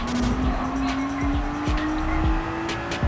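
A Nissan GT-R Premium lapping the Nürburgring in a Gran Turismo 7 online time trial: a steady, loud engine drone with rising gear-driven pitch and repeated tire squeal under braking and acceleration.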